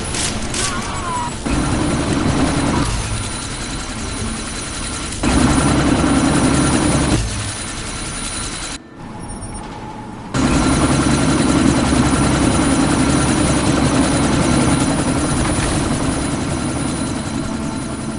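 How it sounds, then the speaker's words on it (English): Helicopter spooling up for takeoff in the video game Deus Ex: Mankind Divided, a loud rotor thrum and engine whine pulsing in waves with brief dips, mixed with game ambience. "That chopper's about to take off."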